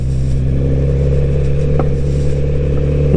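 A 2022 Kawasaki Z900RS motorcycle rolls over a gravel-strewn road, its steady engine drone close and loud, with faint clattering and scraping underneath and no talk.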